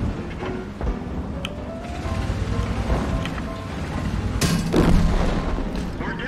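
A tank exploding in the online game World of Tanks, with one sharp burst about two-thirds of the way through rising over a low, rumbling battle backdrop.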